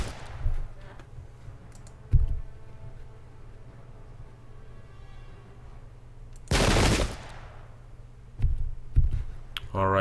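Arquebus volley fire in the video game Pike and Shot Campaigns, a Dutch Revolt battle at Heiligerlee in 1568: a few sharp cracks and one heavy sustained burst of gunfire, with scattered shots after it over a low steady background.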